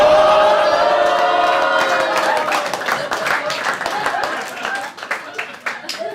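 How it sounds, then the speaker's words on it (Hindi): Applause and some cheering from a comedy club audience at a Hindi stand-up show, a dense wash of clapping that fades unevenly over several seconds, with voices mixed in. "सिर्फ लड़कियों ने ताली बजाई है।"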